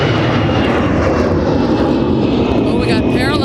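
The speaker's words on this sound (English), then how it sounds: "Oh, we got parallel takeoffs." Airliners taking off in parallel at MSP airport, a loud continuous engine roar filling the scene with no break.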